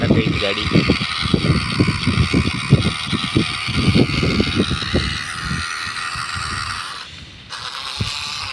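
A small homemade remote-control PVC-pipe tractor grinds and whirs its motor while pushing through mud, close by, with someone talking over it throughout.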